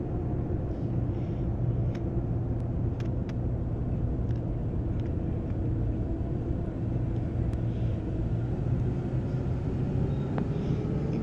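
A bus engine in a driving simulator game runs in second gear, a steady, even low rumble holding constant for the whole stretch with no voices.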